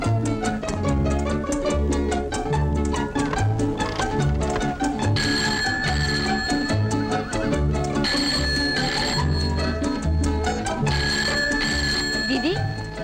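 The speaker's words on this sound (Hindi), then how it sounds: "दीदी, दीदी फोन बज रहा है।" An old-fashioned telephone bell in a classic Hindi comedy film rings loudly and repeatedly over a busy, continuous music score, with the bursts recurring across the whole stretch.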